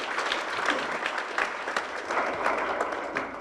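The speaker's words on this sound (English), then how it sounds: "why don't we clap for this" Steady applause from an audience at a World Press Freedom Day event, dense clapping filling the room at moderate distance with no talk over it.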